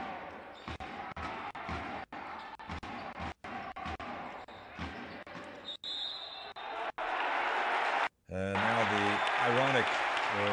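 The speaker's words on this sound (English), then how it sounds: "Applause" Crowd applause at a professional basketball game between CB Avenida and Yekaterinburg, a sustained loud wash of clapping in an arena, mixed with ball bounces and sneaker squeaks, with a commentator's voice near the end.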